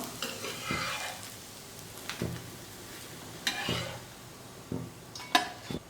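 A millet dosa crackling softly on a hot pan as it is flipped, with a faint steady sizzle broken by several sharp scrapes and taps of a spatula against the pan.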